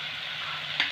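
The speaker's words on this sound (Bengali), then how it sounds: "সামান্য কষে নেবো আমি, টমেটোর কাঁচা গন্ধটা যেন না থাকে" Tomato sautéing in a pan with salt and Kashmiri chilli powder, a soft continuous sizzle with a brief scrape of stirring near the end, quiet and close.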